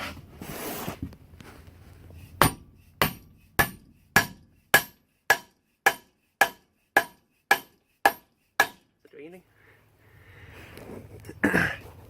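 A series of about twelve sharp, evenly spaced hammer blows, loud and close, preceded and followed by rustling and handling noise.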